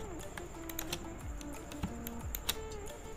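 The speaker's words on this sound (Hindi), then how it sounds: "कीबोर्ड से कंट्रोल आई प्रेस करें" Computer keyboard keys pressed in a few quick clicks, the Ctrl+I shortcut during Photoshop 7.0 photo editing, faint and close against a steady background hum with no talk.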